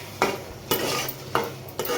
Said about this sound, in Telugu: కారం వేసిన తర్వాత ఒకసారి మళ్ళీ కర్రీ అంతా ఇలా కలుపుకోవాలి.